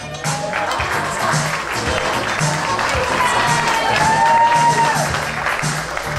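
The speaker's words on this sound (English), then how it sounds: "And keep that applause going" Wedding guests clap continuously at a steady, moderate level, with a faint tone gliding over the applause and some background murmur.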